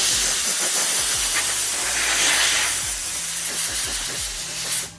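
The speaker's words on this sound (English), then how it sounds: "I'm gonna blow off any remaining dust." A strong, steady hiss of compressed air blows dust off freshly polished car paint at close range for several seconds, with faint low thuds beneath and no speech.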